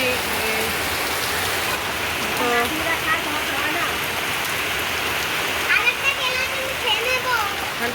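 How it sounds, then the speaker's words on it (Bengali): Heavy rain pouring down in a village, a dense steady roar of drops hitting surfaces nearby, with a person talking over it. "এবার প্রচুর বৃষ্টি হচ্ছে আজকে দেখো এখানে এই দেখো প্রচুর বৃষ্টি"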